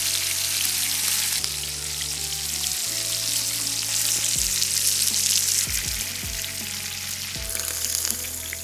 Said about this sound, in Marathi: मस्तपैकी झिंगे फ्राय होते आपलं चिकनसुद्धा मस्तपैकी फ्राय होत आहे